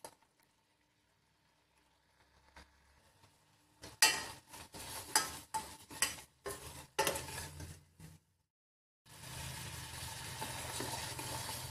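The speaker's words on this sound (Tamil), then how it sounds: "அப்பப்ப இந்த மாதிரி கிளறி விட்டுருங்க ஃப்ரெண்ட்ஸ்" Spoiled milk is stirred in a pan: a run of scraping and clinking spoon strokes comes in irregular bursts, goes quiet, then gives way to a steady bubbling sizzle.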